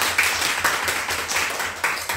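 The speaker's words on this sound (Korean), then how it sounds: "여러분 우리 환영하며 우리 박수로 우리 환영에" A church congregation claps together to welcome a new member during Sunday worship, steady rhythmic applause from a roomful of people, fairly loud and close.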